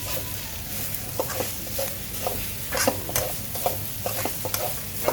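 Oil crackles in a pan for a holy basil stir-fry with grilled pork neck. A continuous sizzling hiss carries soft scrapes of stirring at uneven intervals, near and moderate in level, with no clear speech.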